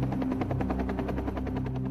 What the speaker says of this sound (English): Next thing I hear is helicopter.